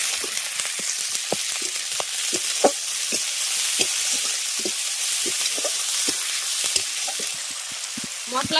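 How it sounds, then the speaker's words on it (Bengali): Spice masala of turmeric and chili powder sautéing in a pan, a loud continuous sizzle and crackle with frequent scraping strokes of a stirring spoon, close up and with no voices. "এবার মশলাটাকে ভালো করে কষিয়ে নেব।"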